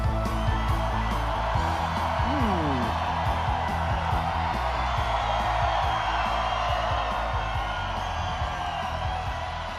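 A large political rally crowd in Des Moines, Iowa cheers and whoops in a loud, continuous roar that rises and falls, with a voice over the speakers amid the noise.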